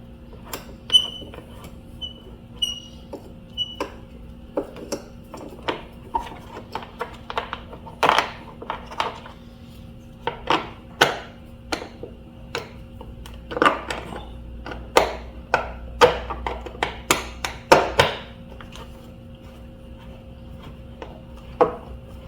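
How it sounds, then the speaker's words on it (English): Small metal tool working the screws of a car fog light cover during a bumper guard installation, a run of light clicks, taps and scrapes, close and fairly faint, with no talk. "Using a 5mm, we're going to remove both screws."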